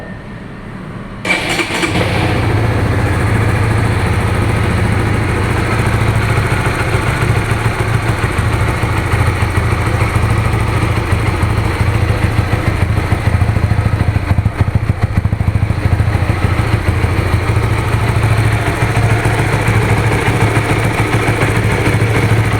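A Honda Supra GTR 150 fuel-injected motorcycle is started after a second or so, then settles into a steady, smooth idle that runs loud and close for the rest of the clip, with no voices.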